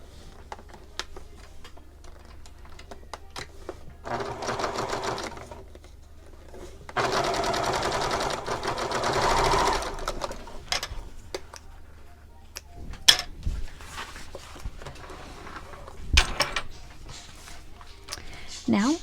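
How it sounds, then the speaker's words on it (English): Sewing machine stitching across the end of a fabric shoulder bag strap, running in a few bursts of steady whirring with pauses and small clicks and handling noises between, close by. "You can either sew it or just clip it down, but I'm going to sew it."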